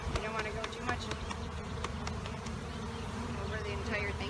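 Honey bees buzz steadily around an open Langstroth hive during a powdered sugar treatment, a dense, close droning swarm with faint handling sounds mixed in.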